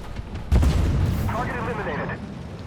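Gunfire from an enemy tank in the video game Armored Warfare, a loud sudden blast followed by a long rumbling roar that slowly fades, with a voice talking over it.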